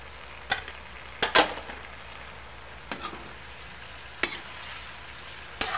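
Tofu fries in a pan for adobong sitaw, with a steady low sizzle broken by several sharp bursts of spattering as pieces hit the hot oil, close and with no talking.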